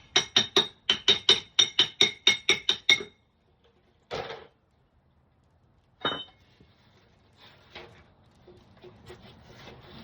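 Hammer taps knocking off rear brake parts on a Honda Rancher ATV, a quick run of about a dozen sharp, ringing metallic strikes, then a few isolated louder knocks separated by quiet pauses.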